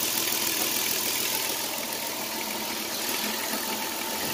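A 2001-2007 Dodge Grand Caravan's 3.3 V6 idles steadily up close, giving a continuous, even engine hum with a faint ticking texture and no talking.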